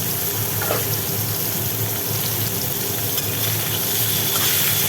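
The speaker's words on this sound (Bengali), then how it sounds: "এইবার দিলাম ঝিঙে ঝিঙেগুলো কাটা ছিল ঝিঙেগুলো কড়ার মধ্যে দিয়ে দিলাম" Chopped ridge gourd sizzles and fries steadily in a hot wok with black cumin, a loud, continuous crackling hiss close by that never lets up.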